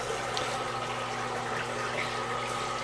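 Water steadily filling aquaponics grow beds, a continuous rushing, trickling flow over a constant pump hum with no pauses.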